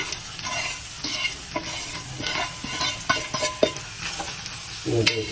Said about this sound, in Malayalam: നമ്മൾ നേരത്തെ റെഡിയാക്കി വെച്ചിട്ടുള്ള ചിക്കൻ്റെ സോസേജ് ഇതിലേക്ക് ആഡ് ചെയ്യാം